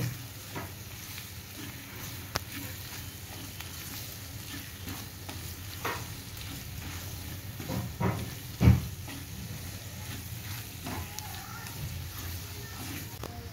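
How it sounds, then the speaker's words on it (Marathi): Spices including red masala and Malvani masala fry in oil for pav bhaji, giving a soft, continuous sizzle with occasional stirring clatter and a louder scrape near the end. "आता हे मसाले सगळे आहेत व्यवस्थित तेलामध्ये परतून घेऊया"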